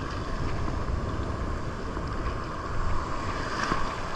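A boat pushes through large waves at sea during a high tide, giving a steady, loud wash of water and wind rush with a slight swell in the middle, and no voices.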